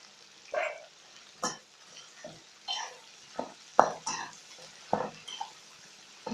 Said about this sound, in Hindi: अब इसी में मैं भिंडी डालूंगी।